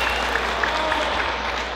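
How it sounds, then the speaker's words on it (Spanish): Guests applauding at a quinceañera, steady continuous clapping from a gathered crowd filling the whole moment, fairly loud and even with no pauses. "Sí, más fuerte ese aplauso"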